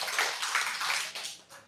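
Applause from a women's religious study gathering, a short burst of scattered hand clapping that fades out within two seconds, with no voices over it.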